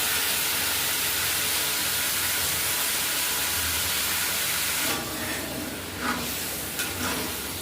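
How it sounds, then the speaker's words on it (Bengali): Hot water poured into a pan of sizzling potato curry gives a loud, steady hiss of steam that dips and sputters toward the end. "গরম জল একটু দিয়ে দিচ্ছি"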